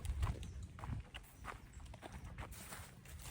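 Hooves of a small horse clip-clop in a steady walking rhythm on hard ground, fairly faint, with soft outdoor background noise.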